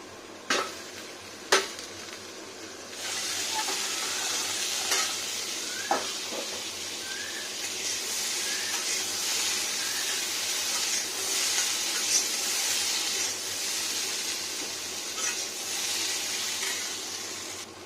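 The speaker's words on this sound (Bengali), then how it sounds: "আলুটা ঢেকে ভাজা করে নিই" Steady sizzling of potatoes frying in an iron pan, with a few sharp clinks of a utensil early on and no talking.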